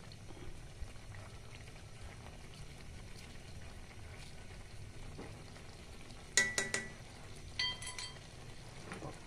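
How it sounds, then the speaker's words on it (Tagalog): Coconut milk with tuna and eggplant simmers in a pot, a steady low bubbling and soft sizzle running throughout, with a few brief clinks of utensils near the end. "Lutuin lang natin ang ating gata at saka eggplant."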